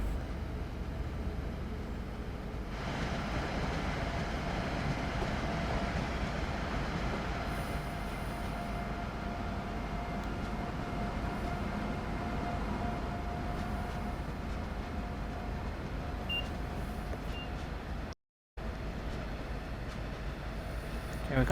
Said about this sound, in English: There goes another Amtrak.